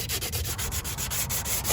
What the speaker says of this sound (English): Hit this with some sandpaper. Start off with some 220.